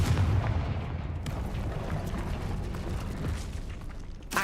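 In the Hogwarts Legacy video game, a Confringo blasting spell bursts with a loud booming explosion at the start, then a rumbling, crackling tail of debris and low-end impact fading over a few seconds.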